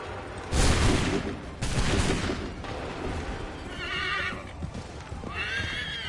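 A musket volley in Assassin's Creed 3 cracks out in two loud, close bursts with echoing tails, followed by horses neighing and hooves clopping in the background.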